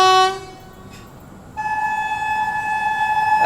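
The Mangala Lakshadweep Express, running from Ernakulam to Hazrat Nizamuddin, sounds a short, loud horn blast, then a brief lull before a second sustained horn tone over its approaching rumble.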